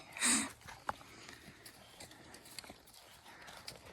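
A horse on a ranch in Nova Scotia, Canada, snorts loudly once, followed by faint, scattered hoof knocks and shuffling nearby.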